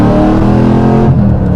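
A cammed LS V8 in a 4th-generation Camaro SS accelerates hard, a loud, close, continuous engine roar with choppy harmonic rumble that holds steady throughout.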